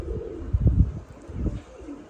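A few soft, low pigeon coos close by, in short throaty bursts with brief pauses between them.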